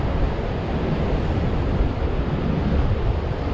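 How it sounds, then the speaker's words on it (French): Waves wash onto a south-side beach in a continuous, fairly loud roar of surf, with wind buffeting the microphone throughout and no one speaking. "Voilà, plage côté sud."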